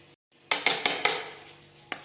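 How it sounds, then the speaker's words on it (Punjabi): A spoon clinks and scrapes against a metal pot as banana is stirred into homemade custard: four quick, close metallic knocks in a row, then a final clink after a pause, with no talking. "ਲਓ ਜੀ ਕੇਲਾ ਪਾ ਕੇ ਆਪਾਂ ਵਿੱਚ ਮਿਕਸ ਕਰ ਦਿੰਨੇ ਆ"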